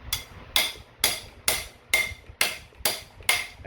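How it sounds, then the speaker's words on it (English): A bottom bracket is hammered into an ebike frame with eight sharp metallic strikes at a steady, even pace, each ringing briefly before the next, close and clear with no talking. "so that as I hammer it"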